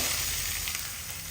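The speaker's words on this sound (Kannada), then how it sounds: "ಒಗ್ಗರಣೆಗೆ ಒಂದು ಚಮಚ ತೆಂಗಿನೆಣ್ಣೆ ಎಣ್ಣೆ ಬಿಸಿ ಆದಮೇಲೆ ಅರ್ಧ ಚಮಚ ಸಾಸಿವೆ ಅರ್ಧ ಚಮಚ ಉದ್ದಿನಬೇಳೆ" Mustard seeds and urad dal sizzle in a spoonful of hot coconut oil for a tempering, a steady, dense crackling hiss with no voices.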